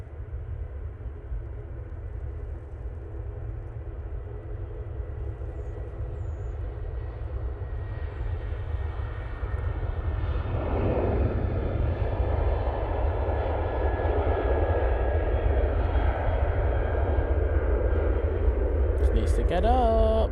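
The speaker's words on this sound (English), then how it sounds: "Tui on the roll. Using a 737-800." A TUI Boeing 737-800 rolls for takeoff at Manchester Airport, its engine roar swelling steadily from a distant rumble to a louder, fuller blast over about twenty seconds, with a voice talking over it.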